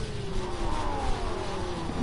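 A car engine in the video game Rocket League revs with a rising then falling whine over a steady roar, loud and continuous with no talk.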